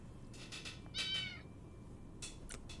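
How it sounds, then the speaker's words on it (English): A cat meows several times in the post-apocalyptic survival game 60 Seconds, clear high mewing calls that come in short bursts over a soft background hum. "Why do we have a cat again?"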